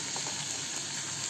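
Cabbage and capsicum strips sauté with turmeric and salt in a pan over a low gas flame, giving a steady, soft, close sizzling hiss with no talk.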